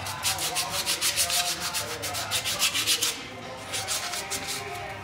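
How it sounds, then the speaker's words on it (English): Rapid rhythmic rasping strokes of emery cloth scrubbing surface rust off a car wheel hub, close up, pausing briefly before resuming at a slightly softer level. "We have some emery cloth, which I'm going to use here just to get rid of some of that surface rust"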